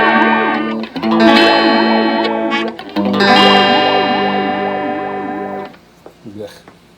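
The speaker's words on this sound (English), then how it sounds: "If you want offensive, you have to go straight to the flanger on this" An electric guitar is played through the flanger effect of a Carvin SX200 guitar amplifier, with loud chords whose tone sweeps in a strong jet-like swoosh, a brief pause near one second, then the chords fading out.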